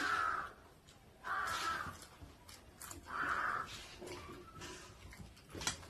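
A crow caws three times at roughly one-second gaps, clear and fairly close, with faint background noise between calls.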